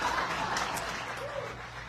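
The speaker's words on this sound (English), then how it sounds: "Give Eric and Marina a huge round of applause." A seminar audience in Las Vegas applauding, a dense wash of clapping that stays steady throughout with a few faint voices and whoops mixed in, filling the room.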